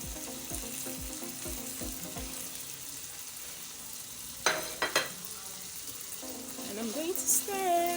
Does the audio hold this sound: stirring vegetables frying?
yes